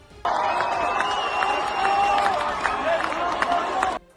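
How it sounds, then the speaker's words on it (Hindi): Protesters in West Bengal shout loudly together in a steady, dense wall of crowd noise lasting a few seconds, with scattered sharp claps mixed into the din. "प्रदर्शन के दौरान वो तालियां पीटते और जोर जोर से चिल्लाते नजर आए।"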